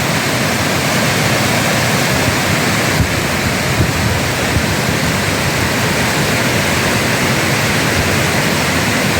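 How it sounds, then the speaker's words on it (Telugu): Water pours continuously out of a pond, a loud, dense, unbroken rushing roar like a small waterfall, close by and steady from start to finish, with no voices. "నీటి ప్రవాహం చెరువు నుండి ఆగకుండా సాగే ఈ జలాన్ని"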